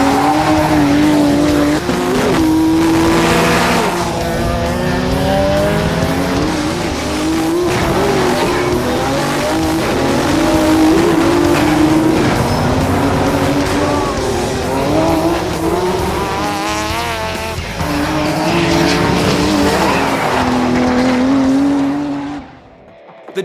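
A turbocharged race car at the 2009 Yokohama Superlap, engine screaming loudly and steadily with rising and falling revs through gear changes and squealing tires, close by throughout before cutting off abruptly at the end.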